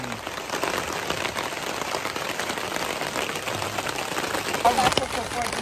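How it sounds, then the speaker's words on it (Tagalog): Rain patters steadily on a makeshift camp shelter during an evening barbecue at a campground, a close, even hiss with a few louder drips while people talk. "Umuulan!"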